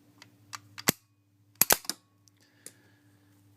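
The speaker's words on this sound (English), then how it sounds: "Let me get the bolt out again." Bolt being worked out of a 1943 No4 Mk1* Savage rifle, giving a few sharp metallic clicks and clacks close by, with a double snap in the middle and small handling noises around them.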